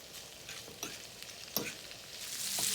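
Pork and beans with rice frying in a pan, a continuous close sizzle with occasional stirring scrapes, growing slightly louder toward the end.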